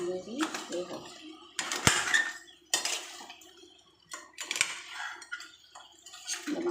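A spoon scrapes and clanks against a pot while a thick masala gravy is stirred, giving intermittent metallic knocks and wet shuffling with one sharp clink. A voice talks over much of it.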